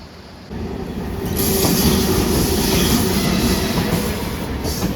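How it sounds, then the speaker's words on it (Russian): An ordinary passenger train near Sochi rolls past close by, a loud sustained rumble with rhythmic wheel clatter and a faint squeal, building after the first half second and holding steady with no talk. "А это обычный поезд."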